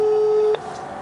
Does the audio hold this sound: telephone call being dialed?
yes